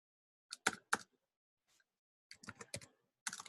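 Close, crisp clicks from a computer keyboard come in two short bursts of quick keystrokes separated by a pause of just over a second, with no voice over them.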